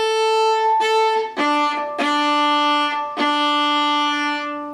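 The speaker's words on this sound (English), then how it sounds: "Let's do that rhythm just on open strings." Viola and cello bow a rhythm on open strings, five sustained bowed notes in a simple pattern moving from a higher string to a lower one, close and clear with no talking.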